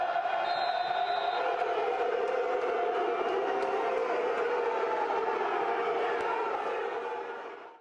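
Sports fans in a stadium boo together in one sustained, droning roar that holds steady for several seconds before tapering off at the very end.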